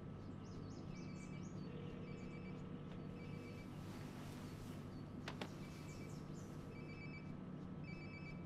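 A phone rings nearby in the video game Life is Strange Before the Storm, with faint repeated ring bursts over a low, steady background hum.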